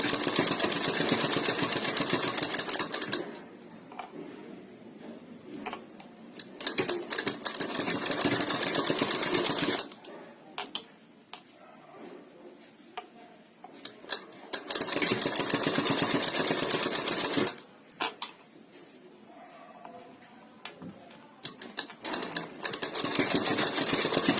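A sewing machine stitches round and round a sleeve, giving loud, continuous mechanical whirring close by. It runs in long stretches that ease off into quieter pauses and then pick up again.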